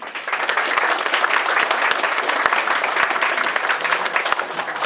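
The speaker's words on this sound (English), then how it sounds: "so a big round of applause to him." A school audience of middle school students claps steadily in a dense, loud burst of applause lasting several seconds, heard on its own without talk.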